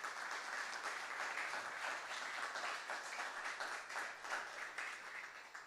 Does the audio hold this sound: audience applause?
yes